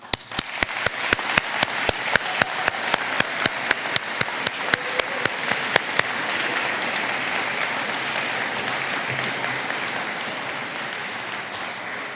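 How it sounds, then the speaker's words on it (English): Graduation ceremony audience applauding in a large hall: one person claps in a loud, steady rhythm close by for the first six seconds over a broad, continuous wash of crowd applause that carries on evenly to the end. "Please join me, class of 2017, graduates, in applauding your loved ones."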